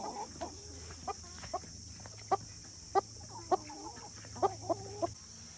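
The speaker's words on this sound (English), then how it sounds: "Here's our new birdie hen." A hen clucks in short, sharp bursts, about a dozen spaced through the clip, close by over a low background hum.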